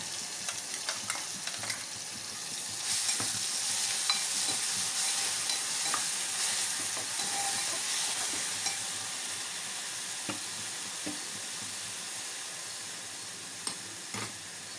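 Onion paste frying in a pan for a cluster bean curry, a steady sizzling hiss that grows louder after a few seconds, with occasional soft stirring scrapes and clicks.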